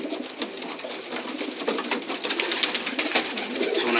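Young pigeons in a loft give soft cooing calls over a rustling, noisy background, a steady murmur of bird sounds with no talk.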